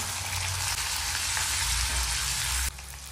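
Shredded cabbage with capsicum and carrot stir-fried for homemade noodles, a steady loud sizzle and hiss running throughout, dropping slightly in level near the end.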